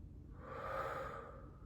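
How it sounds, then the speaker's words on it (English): A long, soft exhale during a guided energy-healing relaxation session, one smooth breath swelling and fading over under two seconds, close and quiet with no talking. "Another big exhale."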